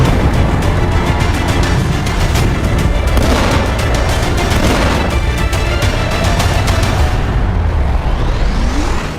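Bombing in Tehran during the Israel-Iran war, a loud continuous roar of blasts and rumbling booms with dense crackling impacts, sustained throughout and ending in a fading rush.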